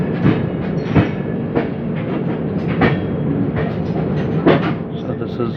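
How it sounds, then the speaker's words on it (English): The Rajdhani Express from Delhi to Kolkata, heard from near the last coach, rolls slowly toward Vardhaman station with a steady rumble and irregular clacks of wheels over rail joints. "Train is now very slow"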